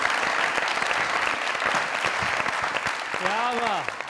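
Loud, sustained applause from a studio audience on a comedy talk show fills the clip, steady clapping with a voice speaking briefly over it near the end.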